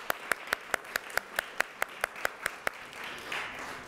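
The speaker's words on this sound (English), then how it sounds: "So let's give her a round of applause." At an outdoor heritage flag raising ceremony, a small group claps in a light, rhythmic patter of distinct, evenly spaced claps that tapers off after a few seconds.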